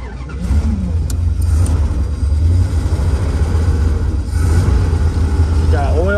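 A 1969 Dodge Dart Swinger engine, started after sitting for about 20 years, runs steadily with a deep rumble and rises into revs. It is loud and close the whole time, and rain and storm noise sit behind it.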